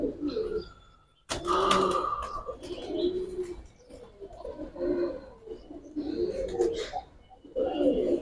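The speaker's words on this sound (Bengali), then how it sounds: "বাবা মা অনেক সুন্দর কবুতর" Fighter pigeons coo in a loft, with repeated soft, throaty coos and a few chirps heard close by in bursts separated by short pauses.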